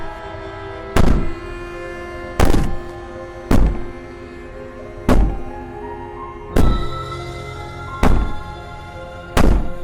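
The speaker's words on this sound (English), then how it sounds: "Maybe the banging and wailing will stop if you just don't pay attention to it." Heavy, isolated thuds strike a wooden cabin wall in the game Slay the Princess, seven loud bangs spaced roughly every one to one and a half seconds, each booming briefly and decaying with no voices.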